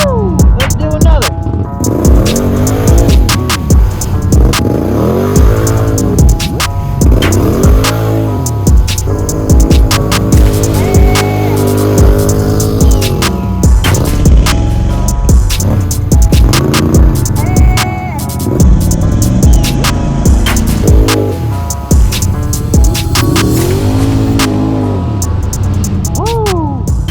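A 2022 Can-Am Outlander 850 XMR ATV engine revs up and down in repeated loud, close surges over a steady running drone, with a person talking at times.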